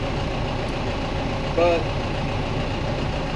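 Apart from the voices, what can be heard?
Massey Ferguson 4710 tractor engine idling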